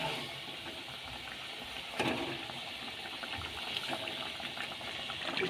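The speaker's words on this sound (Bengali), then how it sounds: "এবার জল দিয়ে দিচ্ছি।" Water is poured into a pan of spiced Bengali egg curry, giving a steady hissing, bubbling rush with a sharper splash partway through.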